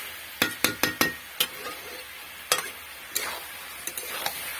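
Fish head chhechra being stir-fried in a pan, with a quick cluster of spatula knocks and scrapes against the pan, then a few scattered strokes over a low sizzle, close up with no voices.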